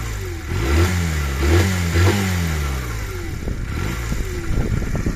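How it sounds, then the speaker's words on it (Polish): A Honda CA 125 Rebel motorcycle engine revs up and down several times close by, rising and falling pitch with a steady idle rumble between throttle blips. "Reaguje idealnie na gaz, kręca się na obroty."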